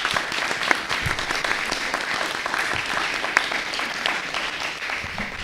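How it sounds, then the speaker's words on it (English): Audience applause at a Democratic presidential mock debate in Stonington, steady dense clapping that carries evenly through the whole stretch with a few sharper claps standing out. "perhaps we hold our applause until the end"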